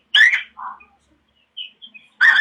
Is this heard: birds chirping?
yes